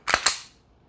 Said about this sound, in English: you're going to rack that slide